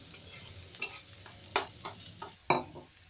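Onion and masala frying in a pan for noodles, stirred with a spoon that gives several sharp scrapes and clacks against the metal over a low sizzle, close and without talk.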